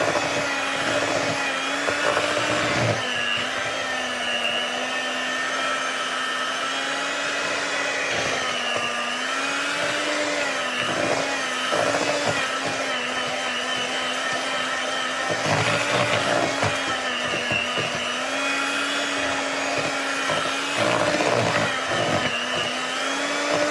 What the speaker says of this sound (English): a very cheap whisk. It can't really handle it.